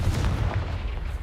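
Confringo spell cast in the video game Hogwarts Legacy, a loud, close, booming blast with heavy low rumble that rolls on for about a second without speech.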